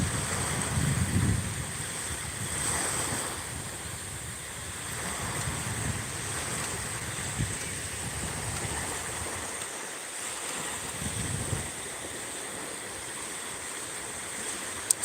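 Flowing water of the Cedar River at night, a continuous rushing wash with gusts of wind noise swelling and fading, no voices.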